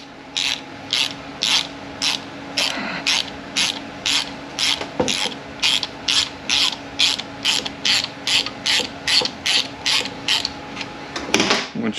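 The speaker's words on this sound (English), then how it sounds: "So just take it and screw it in there." A cooler line seal fitting is screwed into a Chrysler transmission line with a ratcheting tool, producing a steady, evenly spaced series of loud, close clicks that repeat throughout.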